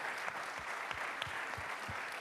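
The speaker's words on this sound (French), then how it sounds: "Tonnerre d'applaudissements" Applause from a conference audience closing a panel session, steady dense clapping at moderate level throughout, with a few sharper individual claps standing out.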